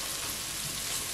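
Garlic sautés in a hot pan for a stir-fry of tempeh, egg and bean sprouts, giving a dense, steady hiss, close and even, heard alone for about a second.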